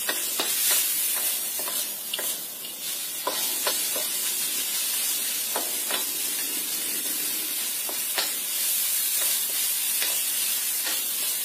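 A shrimp mixture fries in a wok over medium-low heat, giving a steady, dense sizzle broken by the frequent scrape and clatter of stirring, with no voices.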